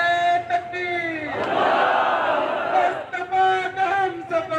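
A rally crowd roars back a Takbir slogan in one massed, loud chant that swells and holds for a couple of seconds, framed by an amplified voice before and after.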